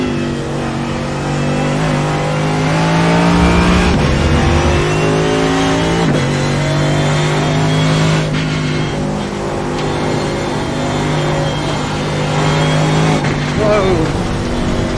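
A race car in the iRacing sim at Canadian Tire Motorsport Park, running on cold tires through a sweeper, its engine revving loudly and shifting through gears with steady, close drone and pitch sweeps throughout.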